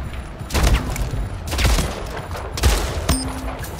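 Gunfire from a shotgun in the Slipgate video game: several loud bursts of shots in quick succession, with dense blasts spread across about four seconds.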